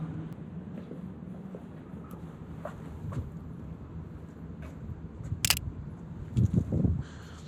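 A single sharp shutter click from a Fujifilm X100V camera stands out against quiet street ambience in London with low rumbling background noise.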